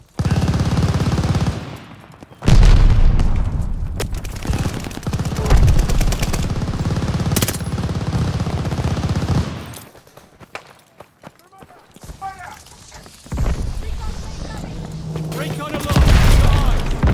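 Gunfire and explosions from Call of Duty Vanguard, a video game battle with a grenade blast: dense, loud bursts of shooting and booms with a quieter gap midway, mixed with game effects and someone talking over it.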